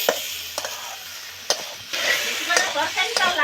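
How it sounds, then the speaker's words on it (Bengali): Fish curry masala with chopped tomato being stirred and fried in a pan, a steady sizzle with repeated scraping strokes of the spoon, close and clear, growing busier toward the end with no talking. "ভালো করে কষে নেবো।"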